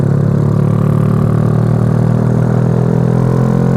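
A Yamaha Vega motorcycle engine runs steadily on a night ride, a close, continuous mid-pitched drone with a low rumble and no clear revving peaks across the whole stretch.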